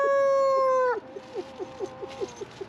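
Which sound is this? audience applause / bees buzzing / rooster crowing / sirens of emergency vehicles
rooster crowing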